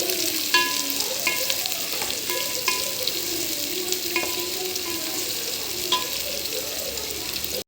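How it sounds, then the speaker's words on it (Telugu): Onions frying in oil in a pan until golden for a chicken pulao, giving a continuous dense sizzle with occasional light metallic clinks of a stirring spoon, close and even throughout. "ఆనియన్ ఎంత మంచిగా మనం ఫ్రై చేసుకుంటే అంత మంచిది గోల్డ్ కలర్ వచ్చేంత వరకు"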